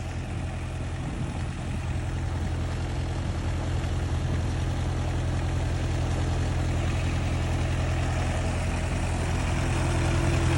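A water pump engine at a fish farm in Samut Prakan, Thailand drones steadily and loudly, a constant low mechanical rumble running without pause throughout.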